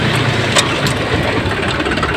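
A Force Orchard 27 HP tractor engine runs in fourth gear with a gear-noise fault, giving a steady, close mechanical drone with a faint whine above it and no talk.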